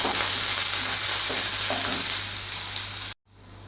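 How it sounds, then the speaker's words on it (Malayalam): Onions frying in hot oil with mustard seeds and curry leaves in a pan for a Kerala egg and drumstick-flower thoran, a loud steady sizzle with occasional stirring, cutting off abruptly near the end. "ഇനി അതിലേക്ക് നമുക്ക് ഈ സവാള ഇട്ട് കൊടുക്കാം."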